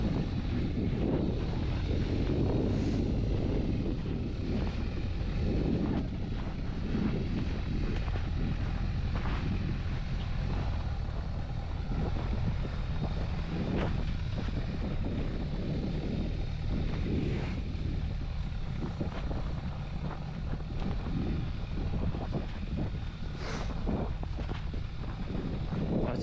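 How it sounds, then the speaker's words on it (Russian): Strong blizzard wind sweeps across a frozen lake, roaring and buffeting the microphone continuously and loudly for the whole stretch. "ветер, блин, в лицо прям бьет"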